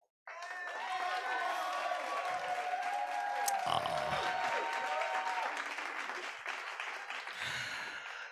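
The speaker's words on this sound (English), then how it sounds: "So, give a big round of applause to" An audience at an award ceremony breaks into applause after a moment of quiet, clapping mixed with murmuring voices and some cheering, continuing steadily.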